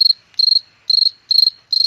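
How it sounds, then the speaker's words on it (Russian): A cricket chirps close and loud in regular bursts, five quick trills spaced about every half second, with nothing else around it. "И сверчит, самое главное"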